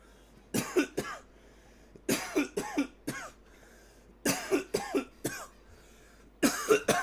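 Repeated bursts of coughing come in four clusters of three or four harsh coughs each, close and fairly loud, separated by short quiet pauses.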